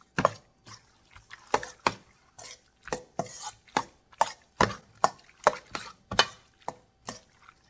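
A spoon mixes fajita ingredients with minced garlic in a cowboy wok, a steady run of sharp metallic scrapes and clinks at a brisk, irregular rhythm, close and fairly quiet.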